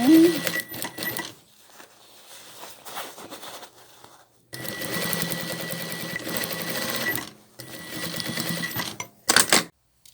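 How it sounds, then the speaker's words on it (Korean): A sewing machine stitches a seam on a duck down jacket under repair in several rapid, rattling bursts separated by pauses, with a short final run. A voice talks around the stitching. "봉제선보다 2, 3mm 안쪽으로 박아주는 게 좀 더 안전해요"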